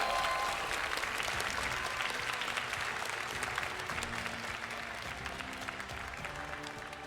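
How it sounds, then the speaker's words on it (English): An audience at an esports 1v1 quarterfinal event applauds steadily, a dense, loud and continuous clatter of clapping that fades slightly over several seconds with no talk above it. "Give a round of applause for both of your players"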